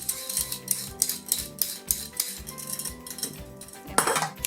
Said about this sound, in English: now I can peel the other end